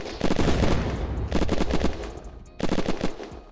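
Automatic gunfire from the video game Unturned during a vanilla base raid: loud, rapid machine-gun bursts in three volleys separated by brief pauses, with no talking.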